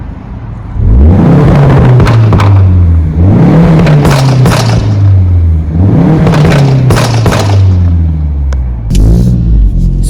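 MK4 Ford Focus ST with Revo Stage 2 software accelerating hard through repeated gear pulls, engine note rising and dropping in several loud revving surges heard from inside the car, no talking.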